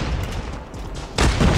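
Gunfire from Call of Duty Mobile during a ranked match, a run of muffled shots and booms in quick succession, with a louder burst near the end.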